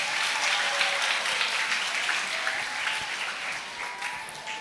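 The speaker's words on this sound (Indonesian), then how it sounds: "Tepuk tangan untuk kalian semuanya" Students from a school Islamic youth group applauded at a religious talk, dense steady clapping from a crowd, fairly close, continuous throughout.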